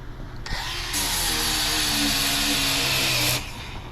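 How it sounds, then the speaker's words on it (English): Power tool spinning an 80-grit polishing pad to strip paint down to bare metal: a brief spin-up, then a loud, steady grinding whir for about two and a half seconds before it winds down, no talking. "This little polishing pad right here, 80 grit."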